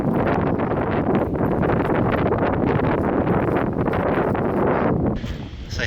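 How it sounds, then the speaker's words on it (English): Strong wind blasts across a coral beach in Mauritius, roaring and buffeting the microphone in a loud, unbroken rush that eases a little near the end. "Wow, it is so windy"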